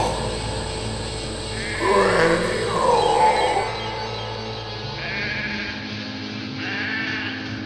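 A goat bleats in two drawn-out, wavering cries over a steady background hum, fairly close, followed by fainter bleating sounds later.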